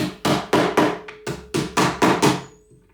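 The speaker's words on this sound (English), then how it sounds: "Small tap with a hammer" A small hammer gives about eight quick, sharp taps on a door latch set in a drilled hole, evenly spaced and close, each ringing briefly before the next strike.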